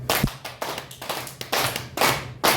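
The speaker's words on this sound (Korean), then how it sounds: "손바닥 박수 시작." Palm-to-palm clapping during a group exercise at a seminar: sharp, fairly loud claps repeating about every half second in a steady beat, with no talking.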